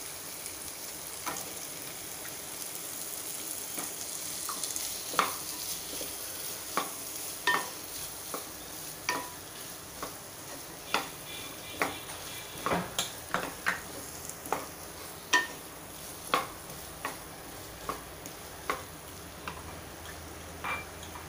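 Potatoes frying in a pan with a faint steady sizzle underneath, punctuated by a series of sharp scraping and tapping stirs from a spoon against the pan, irregular but frequent, heard close with no talking.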